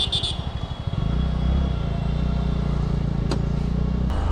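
A TVS Ntorq scooter engine catches after a brief starter crank and settles into a steady, close idle hum that runs without a break.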